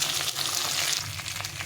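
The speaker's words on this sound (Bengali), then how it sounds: "মাছটা ভাজা হয়ে গেছে" Fish frying in a pan on the stove, a dense close sizzle with bubbling crackle and faint stirring, steady and loud throughout the short stretch without speech.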